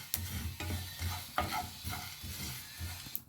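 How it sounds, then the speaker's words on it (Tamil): Spices with turmeric and asafoetida dry-roasted in a pan, a soft, close sizzle with repeated scraping and stirring strokes, quiet throughout. "இப்போ மொத்தமாக சேர்த்து வறுத்துக்கலாம். மொத்தமாக போட்டு பொன்னிறமாக வறுத்துக்கலாம்."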